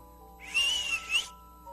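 A single real whistle is blown in a storybook reading, a bright sustained tone lasting under a second that swells twice before fading, fairly soft and alone.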